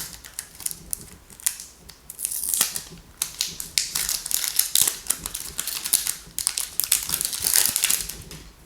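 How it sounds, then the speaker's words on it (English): Plastic wrapping being peeled and crinkled off a new Echo Dot smart speaker with clock, a dense run of close, sharp crackles and rustles over about nine seconds with no talking. "let's take this plastic off"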